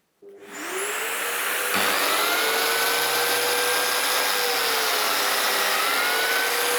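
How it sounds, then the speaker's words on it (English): A workshop dust extractor switches on in a woodworking shop and quickly spins up to a loud, steady whine and rushing roar that holds unbroken, with no talking. "Let's turn the extractor on."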